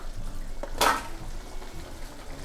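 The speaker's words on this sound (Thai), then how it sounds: "คนให้ต้นหอมสุกค่ะ" Sliced spring onions stirred into sauce in a pan: a single brief scrape and clink of a utensil against the pan over a faint, steady background, with no talking.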